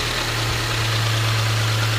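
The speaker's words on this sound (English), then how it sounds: "under here you get your 2 liters. Boxer engine." A 2014 Subaru Impreza 2-liter boxer engine runs at idle, heard up close as a loud, steady low hum with a broad noisy wash over it and no voices.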